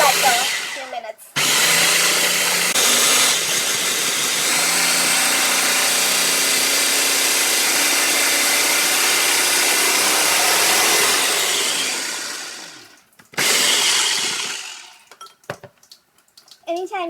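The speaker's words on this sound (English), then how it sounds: "now you're going to put the lid back on and run the machine for another cycle, 2 minutes" A food processor grinds almonds into almond butter, its motor running loud and steady for about ten seconds after a brief start and stop, then winding down, with short bursts of the motor near the end.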